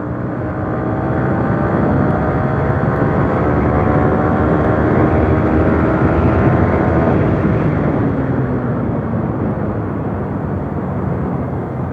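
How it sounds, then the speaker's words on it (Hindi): A Yamaha R15 v3 150 cc motorcycle accelerates in fourth gear from about 50 km/h. Its engine note rises steadily, loud and close, mixed with wind rush throughout. "अभी मैं 4th गियर पर चल रहा हूँ, 50 की स्पीड है। आप देखो एक्सेलरेट करते ही ये बाइक बिल्कुल"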